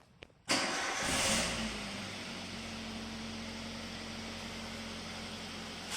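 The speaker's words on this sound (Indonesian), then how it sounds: "selanjutnya kita nyalakan mobil" A Toyota Avanza with its check engine light on starts with a quick starter crank and catches, then settles into a steady, fairly loud idle hum that continues close by with no talking.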